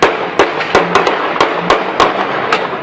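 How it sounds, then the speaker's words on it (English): Sharp cracks and bangs of gunfire and explosions at a street protest rally in eastern Bangkok, about a dozen loud impulsive reports spaced irregularly over a continuous noisy crowd background. "Gunshots and explosions struck a rally here in eastern Bangkok"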